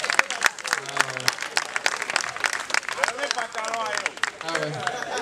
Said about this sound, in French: Ah oui, applaudissez pour lui quand même.